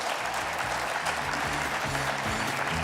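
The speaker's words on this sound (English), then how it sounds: "How about a big round of applause for Melissa Forster" Applause from a live community spotlight audience honoring Melissa Forster, steady broadband clapping filling the whole stretch at moderate level, with low tonal hum or music underneath throughout.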